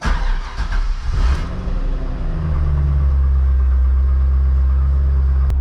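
C5 Corvette Z06 engine on coilovers, driving a quick lap around the block over gravel: a steady, loud low rumble that builds after a brief rev near the start and then holds, with no talking.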